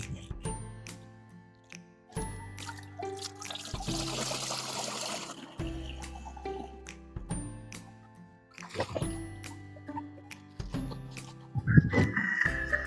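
Catfish and water are poured through a strainer, giving a trickling, splashing pour over steady tonal background music.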